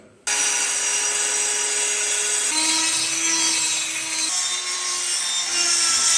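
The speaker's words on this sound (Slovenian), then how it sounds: "Še fino brušenje, zbijak sem." A small power tool does fine sanding on wood, a steady close whine with a high buzzing hiss that holds continuously, its pitch stepping down slightly partway through, loud and alone.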